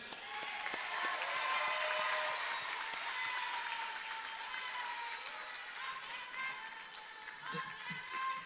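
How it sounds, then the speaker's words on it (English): Crowd applause at a provincial political rally honouring New Horizon, fairly faint and distant, with scattered voices and some brief tonal sounds mixed in. "A round of applause for New Horizon."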